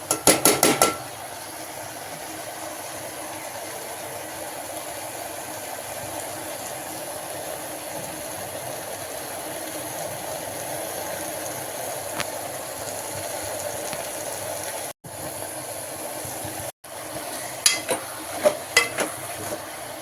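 Drumstick greens with onion and tomato sauté in a pan for kadayal, a steady soft sizzle over twenty seconds, with bursts of utensil clinks and stirring at the start and end.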